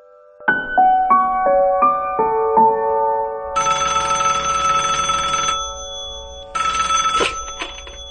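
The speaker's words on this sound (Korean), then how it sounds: "친구 어머니가 전화가 왔었어요" A telephone ringtone plays loud and close with no voices: a rising run of single electronic tones, then two bursts of a harsh trilling ring separated by a short pause.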